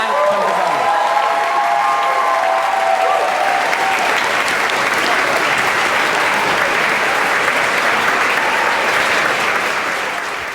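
A large audience applauds steadily throughout, dense loud clapping with some crowd noise and a few voices at the start, tapering slightly at the end.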